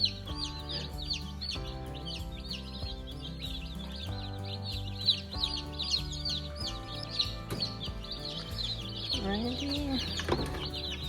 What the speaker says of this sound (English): So we decided to put these chicks in this heated garage